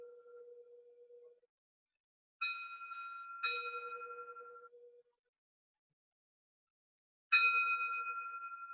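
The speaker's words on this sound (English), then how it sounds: "In a moment I'll ring the bell." A meditation bell rings several times in near silence, each clear metallic strike followed by a long fading tone, with quiet pauses between rings.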